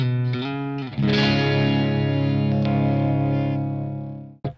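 An electric guitar with single-coil pickups through a Line 6 Helix LT preset: a few quick picked notes, then a sustained chord ringing loud and full with effects for several seconds, cut off by a sharp final pick noise.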